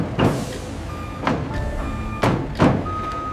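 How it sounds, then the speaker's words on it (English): Trucks loaded with wooden bins pull away from a tomato paste factory, with heavy engine rumble, a few loud thumps and clanks, and steady tonal beeps running under the noise. "The wooden bins are loaded onto trucks, leaving the factory"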